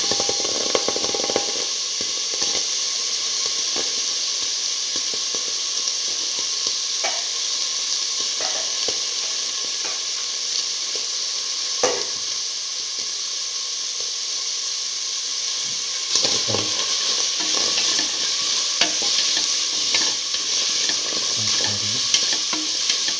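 Potato pieces sizzle and hiss steadily in a hot pan, with frequent scraping stirs and light clatter throughout, close and continuous with no voices.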